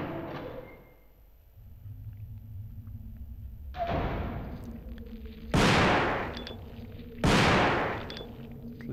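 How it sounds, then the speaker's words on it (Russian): Two sharp, loud shotgun blasts a couple of seconds apart in the video game Resident Evil 2, each with a booming tail, over a low hum and a softer earlier thud. "Возьмем ружье, пошмаляем с ружья."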